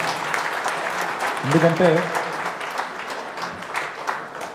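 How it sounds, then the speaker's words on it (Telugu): Applause from an audience of village sarpanches at a gathering in Sirisilla constituency, a steady broad wash of clapping throughout with a voice speaking briefly over it. "ముందుగా మీ అందరికీ హృదయపూర్వకంగా గట్టిగా చప్పట్లు మీకోసమే."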